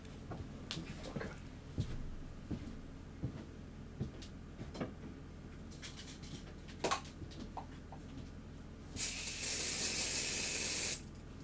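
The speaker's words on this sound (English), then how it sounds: "That fucking fly. I've got fly spray." An aerosol can of fly spray lets out one loud, steady hiss lasting about two seconds. Before it come faint indoor clicks and rustles.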